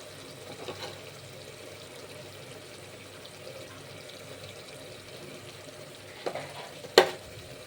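Ginger garlic paste fries in a pan for a drumstick tomato curry, giving a steady low sizzle with a few stirring scrapes and a sharp clink near the end.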